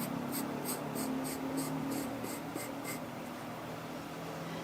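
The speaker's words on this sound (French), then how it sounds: "Ici, nous allons dessiner une courbe" Pencil or marker drawing a curve on paper for a clown illustration, a steady close scratching rub with a regular series of short strokes, then trailing off near the end; no talking.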